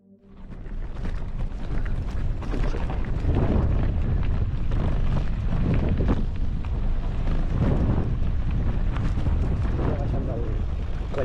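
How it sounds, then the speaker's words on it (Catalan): Strong, steady wind roars and buffets the microphone on a mountain pass along a hiking route, a loud continuous rumble with gusts that swell and ebb throughout, under faint breathing or voice. "Ha hagut un moment que hi havia un vent que no podia quasi ni caminar."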